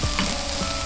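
Onion and chicken breast fry in a pan with garlic, a steady close sizzle lasting about a second with faint stirring scrapes, no voices over it.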